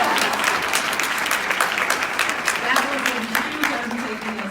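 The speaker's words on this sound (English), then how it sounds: "you can give us a round of applause for that." A room full of people claps steadily for a newly released report on the status of women in Montgomery County, a brisk, even patter of hands that holds for several seconds with some voices underneath.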